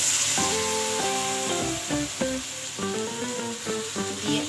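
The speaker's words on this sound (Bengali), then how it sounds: "এবার আমি একটু জল দিয়ে দিলাম" Water poured into a pan of frying vegetables, including potatoes, for shukto raises a steady, close hissing sizzle that continues without a break.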